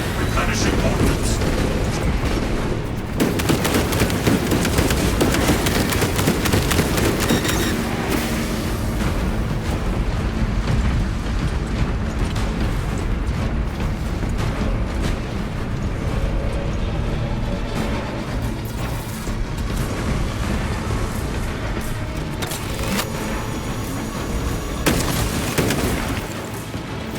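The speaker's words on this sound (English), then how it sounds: "Throwing frag grenades." Frag grenade blasts and heavy gunfire in the Space Marine 2 video game, a dense, continuous roar of explosions and rapid weapon fire with deep booming rumbles, loud and sustained throughout, with game voices heard amid the chaos.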